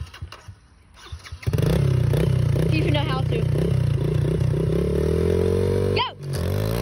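A dirt bike engine sputters, catches and starts, then revs up and down repeatedly at close range, loud and buzzing, while a person speaks briefly before it fires.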